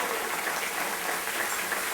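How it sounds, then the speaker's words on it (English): Steady applause from an audience at a Democratic Women's Caucus breakfast, a dense, even wash of clapping that holds level throughout without pauses. "Give Jody a great round of applause."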